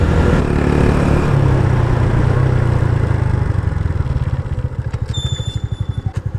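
A 2009 Honda Wave 110i motorcycle rides along a morning road, its engine note loud and close with steady wind and road noise that gives way to a pulsing, throbbing rhythm as it slows toward idle.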